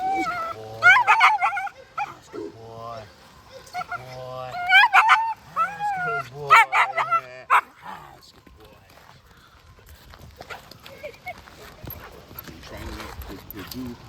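A Czech Shepherd protection dog barks in several sharp bursts and yips in the first half, up close, with people talking alongside and a quieter, scuffling stretch afterward.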